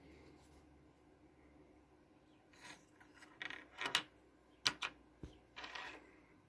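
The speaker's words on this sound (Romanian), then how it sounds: "atunci când apropiem magnetul, la aceste relee se aude un clicăit ca la ceas" Reed relays snapping shut as a magnet is brought close, giving a handful of sharp, dry clicks spaced irregularly over a quiet background, with a few louder bursts clustered near the end.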